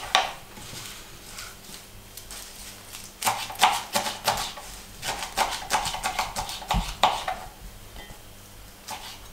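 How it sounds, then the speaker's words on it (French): Radish greens are chopped roughly with a knife: a run of quick, close, crisp cuts in uneven bursts, with no talking. "je vais déjà couper grossièrement les fans de radis de façon à ce qu'ils puissent se mixer facilement"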